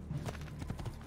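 Rapid horse hoofbeats from the video game Assassin's Creed II clop in a quick galloping rhythm, close and fairly loud, with no other sounds alongside.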